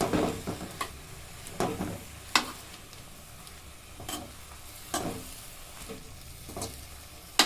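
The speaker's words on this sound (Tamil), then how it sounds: "மீடியம் ஃப்ளேம்லேயே வச்சு வதக்குங்க." Vallarai greens sauté over a medium flame, a soft, steady low sizzle punctuated by regular scraping stirs and knocks of a spatula against the pan, fairly quiet and close.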